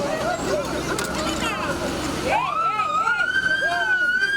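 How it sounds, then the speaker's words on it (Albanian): Water cannon trucks pass during a street protest with sirens sounding: a wailing siren tone rises and sweeps up and down, with traffic rumble and a voice talking over the first half. "Kanë kaluar autobotet."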